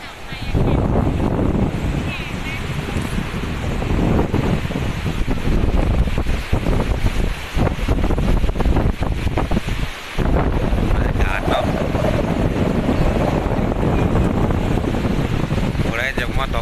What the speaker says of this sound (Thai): ลมแรงกระโชกมากเลยทะเลบางแสน